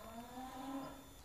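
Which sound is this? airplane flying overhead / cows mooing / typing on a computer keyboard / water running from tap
cows mooing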